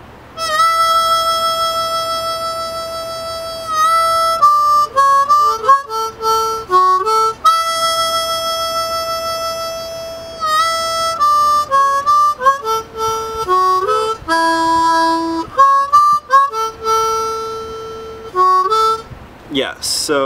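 A harmonica in D plays a solo, opening with the intro riff: held and bent draw notes, quick note changes and short breathy gaps, loud and close with no other sound.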